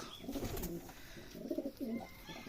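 Pigeons coo at a farm raising Giribaz and racing pigeons in Rajshahi, Bangladesh: low, rolling burbles that rise and fall in a few close bursts over steady background hiss, with no talking.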